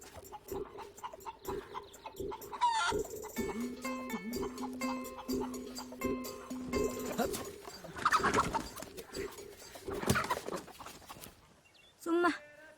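A rooster and hens cluck and call in a Tamil village yard, a busy run of bird noises with people talking over them throughout.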